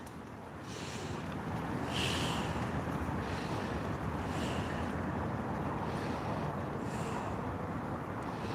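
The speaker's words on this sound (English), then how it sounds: "We've got a fair bit of wind today." Wind blowing outdoors during kayak fishing, a steady loud rushing gust buffeting the microphone with faint water lapping and occasional higher whooshes, no talking.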